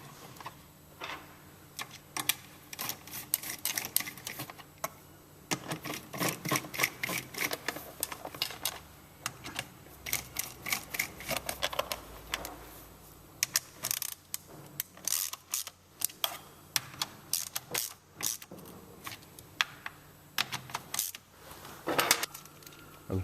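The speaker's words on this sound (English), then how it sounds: "So we can now put the cover back on and tighten the bolts back up." Bolts being tightened on a gearbox cover, heard as a long run of close, sharp metallic clicks and ratcheting ticks in uneven quick bursts, with brief pauses between rounds.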